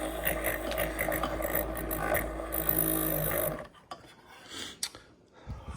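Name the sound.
milk frother frothing milk for coffee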